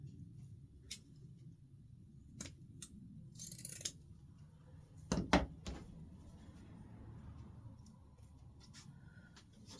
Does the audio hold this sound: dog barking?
no